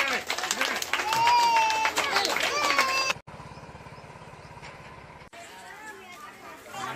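An audience claps at a Ganesh Navaratri celebration, a dense burst of applause mixed with crowd chatter that cuts off abruptly and gives way to quieter background murmur.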